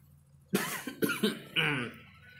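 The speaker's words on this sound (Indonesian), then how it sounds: "Saya batuk ya, maaf." A person coughs in a short burst of harsh, loud coughs, roughly four or five in an uneven rhythm, close to the microphone with a quiet room behind.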